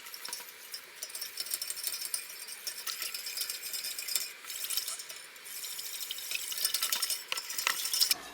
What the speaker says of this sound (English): And just kind of want to keep giving it a stir.